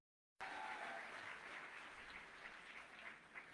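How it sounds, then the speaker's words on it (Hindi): An audience at a direct selling association event breaks into loud, dense applause after a brief silence, with the clapping holding steady and then slowly thinning. "इनके लिए जोरदार ताली बजा दीजिए एक बार सर."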